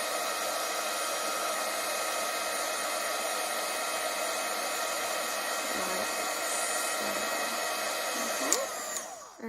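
A handheld craft heat gun runs on its higher of two heat settings, giving a steady, close, continuous blowing roar that stays even throughout and cuts off abruptly right at the end with a brief clatter.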